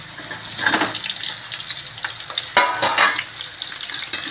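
Garlic and capsicum fry in hot oil in a home kitchen pan, a steady close sizzle with a few louder bursts of spatter as the pieces are stirred, and no talking.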